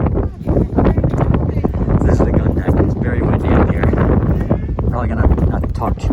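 Heavy wind buffets the microphone in constant rumbling gusts at Castillo de San Marcos, a masonry fort in St. Augustine, Florida, largely drowning out a person talking underneath.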